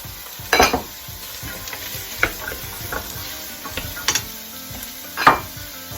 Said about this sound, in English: Now I'm going to start adding some diced root vegetables